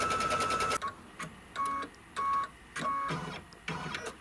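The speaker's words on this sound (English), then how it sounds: "So first thing it stitches off is a placement line for the batting." A Kimberbell quilt embroidery machine stitches a batting placement line in short whirring, buzzing bursts separated by brief pauses, close and fairly loud.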